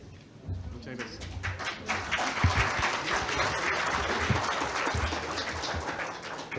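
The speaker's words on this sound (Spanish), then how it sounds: "Te están aplaudiendo." Audience applause at a seminar on psychosocial workplace risks, a steady wash of clapping filling the room for several seconds with a few voices underneath.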